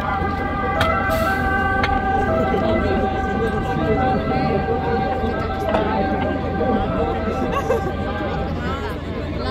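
An ambulance siren wails continuously amid loud, busy outdoor crowd noise and chatter at a mass-casualty emergency simulation exhibition in Italy, steady and fairly close throughout.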